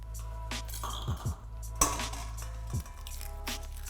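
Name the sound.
cracking eggs into a bowl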